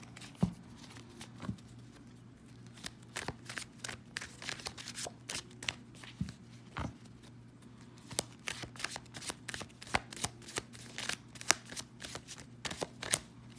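Tarot cards being shuffled, with repeated quick riffling bursts and light slaps in an irregular rhythm, close and fairly quiet against a low steady hum, no talking.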